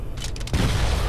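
An explosion in the video game Halo: Spartan Assault bursts out as a short crackling volley that gives way to a loud, sustained rumbling boom, with no speech.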